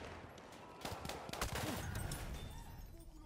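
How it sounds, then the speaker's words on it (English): Gunfire in a video game shooter echoing down a hallway, a burst of rapid overlapping shots in the middle of the clip, fairly faint and mixed with other game noise. "They're shooting down that hallway."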